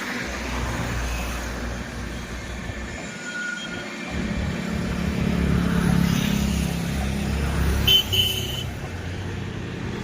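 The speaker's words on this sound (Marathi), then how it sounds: "कर्नाटक दिल्ली एक्सप्रेस गेल्यानंतर अजून एक ट्रेन आलेली आहे" A train passes on the Central Railway line near Hadapsar, Pune, its steady broad rumble of wheels and wagons holding close and loud through the whole stretch, with a brief higher squeal near the end.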